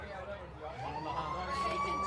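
A rising, steady siren tone marks the end of a quarter at an Australian rules football preliminary final in the Peel league. It swells in the second half of the clip over crowd noise and commentary.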